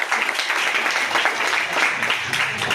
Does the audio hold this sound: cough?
no